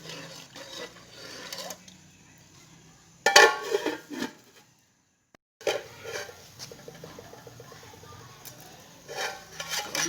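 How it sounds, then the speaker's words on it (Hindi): Rice for a village-style Pakistani pulao is tipped into a pot of water, giving a short rattling, clattering burst between quieter handling clinks and pot noises, with a moment of silence midway. "फिर मैंने चावल डाल दिए इसके बाद।"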